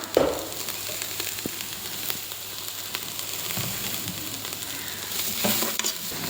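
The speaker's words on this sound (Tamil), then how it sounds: "உப்பு சேர்த்துட்டு நம்ம நல்லா கிளறி விடணும்" Cabbage fries in a pan with salt while being stirred, a steady close sizzle with intermittent scraping and tossing swells, the loudest stirring bursts near the start and end.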